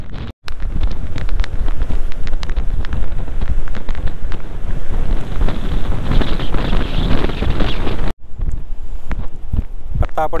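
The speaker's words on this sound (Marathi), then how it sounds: "वाऱ्याचा आवाज असणार आहे." Loud wind buffeting the microphone on Devgad beach, a continuous roaring rumble that cuts out briefly near the start and again toward the end before resuming.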